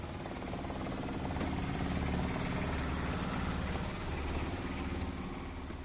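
A tour boat's engine runs steadily on the Jinjiang River near Danxia Mountain, a continuous loud low drone with rattling vibration and no break for the whole stretch, with no talking over it.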